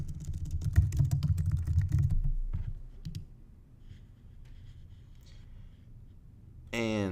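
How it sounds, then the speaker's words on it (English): Computer keyboard typing, a close rapid burst of clicking keystrokes followed by a few isolated key taps, then a quiet pause. "I'll just type in Authority Wrestling."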